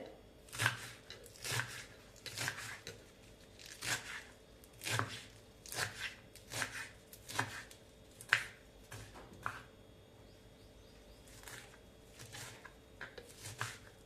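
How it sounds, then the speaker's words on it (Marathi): A knife finely chopping spinach leaves on a board for palak bhaji, irregular bursts of crisp close cuts spread over about fourteen seconds, quiet overall with short pauses between runs. "असं बारीक बारीक एकदम बारीक शक्य तेवढा बारीक चिरून घ्या"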